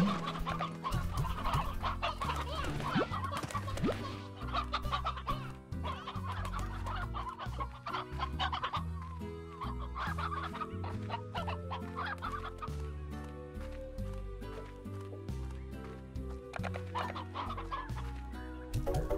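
Hens in a pen in the Slime Rancher video game cluck continuously, overlapping calls from several birds alongside steady musical tones, with no talking.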